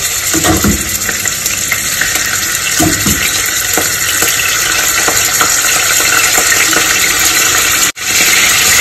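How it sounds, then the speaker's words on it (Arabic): Cubed kebab meat drops into hot oil and fries with a loud, steady, close sizzle and crackle, plus a few brief stirring knocks, before cutting out abruptly near the end. "الزيت بتاعي سخن، هبدا بقى ان انا انزل باللحمه"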